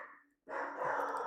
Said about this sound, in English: They only start barking when I start my live streams.